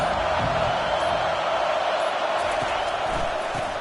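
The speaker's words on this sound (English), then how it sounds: "Decibels rising as the crowd gets behind this defense on third down." A football stadium crowd roars steadily on a third-down defensive stand, a dense continuous wash of cheering that holds at high level throughout.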